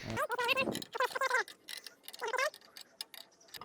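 Ratcheting clicks from a wrench tightening a loose, rusty power steering pump belt on a budget-build Mustang, heard as short bursts of ticking mixed with someone talking nearby.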